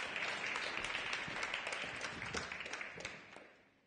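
A conference audience applauds steadily, dense clapping filling the room before gradually tapering off.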